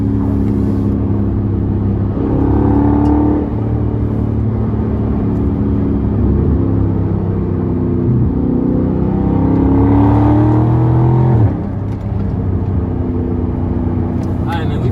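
A Chrysler 300 SRT engine runs close and loud, its rumbling exhaust rising and falling through repeated revs over fifteen seconds, with a sharp drop after one high rev near the end.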